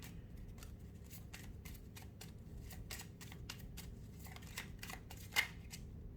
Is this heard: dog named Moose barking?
no